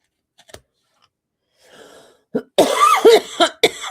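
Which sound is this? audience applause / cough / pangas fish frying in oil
cough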